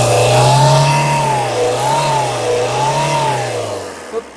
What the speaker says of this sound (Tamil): ரேஸ் பண்ணுப்பா, தெளிவா இருக்கணுங்க.